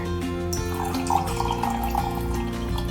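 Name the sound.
water poured into a cup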